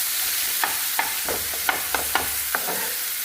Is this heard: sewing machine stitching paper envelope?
no